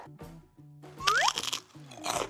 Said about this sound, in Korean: 바삭거려